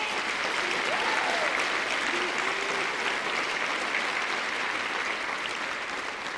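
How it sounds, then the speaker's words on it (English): Audience in a school district convocation giving a round of applause, a broad, sustained wash of clapping from a large crowd that stays steady throughout, with faint voices briefly audible underneath. "Please give all of our poll workers and all of our volunteers for that election a round of applause."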